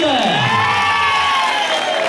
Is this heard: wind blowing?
no